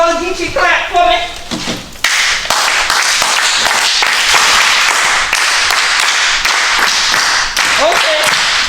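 A crowd clapping Gullah Geechee style claps together in a burst of dense, sharp handclaps that carries on steadily for several seconds after a short stretch of voices.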